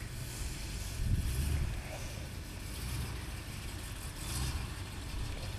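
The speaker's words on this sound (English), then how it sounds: "I'm moving the truck, so I put a pony over there." A truck engine runs at moderate level, with a low rumble that swells briefly as the truck moves, steady throughout with no clear talk on top.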